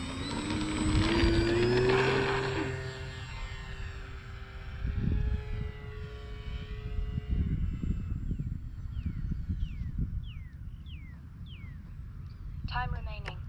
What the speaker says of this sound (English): let's do one more takeoff, this time this from left to right.